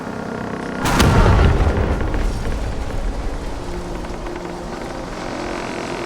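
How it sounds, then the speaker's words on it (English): A loud in-game explosion from fire ships blowing up in Caribbean Legend booms out suddenly near the start, followed by a long rumbling, crackling decay that keeps filling the rest of the clip. "Fires will explode in 10 seconds."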